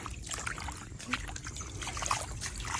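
Water trickles and dribbles faintly through a flooded, muddy farm field: a soft, steady, low-level flow with small splashy bubbling and no voices.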